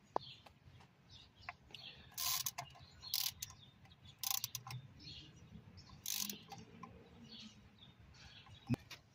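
A ratchet tightens the oil cooler bolts on a 2011-23 Dodge Challenger in short bursts of rapid clicking. Quieter metallic handling and pauses fall between the bursts, all fairly faint and close by.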